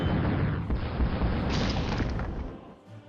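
HIMARS rocket artillery strikes in a war strategy video game land as a heavy run of booming blasts that merge into a loud, rumbling roar before fading out.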